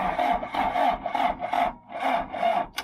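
A John Deere backhoe engine cranks on a weak battery, the starter grinding in slow, labored rhythmic pulses that sag and falter, close and loud, with no talk.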